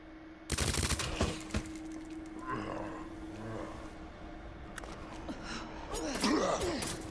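Gunfire from a weapon in the zombie game Resident Evil 2 Remake, with a couple of sharp, loud shots near the start followed by scattered fainter impacts and growling game noise.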